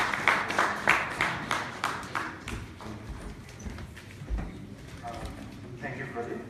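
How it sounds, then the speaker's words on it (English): Audience clapping for a presenter at an ILO youth event in Nepal, a burst of applause that starts loud and thins out over several seconds, fading into scattered claps and room noise. "Round of applause."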